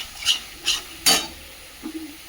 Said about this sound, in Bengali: হাই ফ্লেমে একটু মশলাটা কষিয়ে নেব।